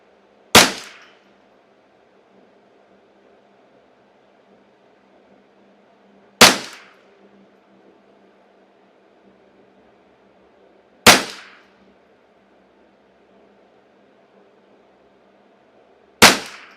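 Four sharp, loud shots from a customized Ruger 10/22 TAC 22 .22 rifle firing CCI standard velocity ammunition, spaced several seconds apart with a brief ringing decay after each crack, and no talk between them.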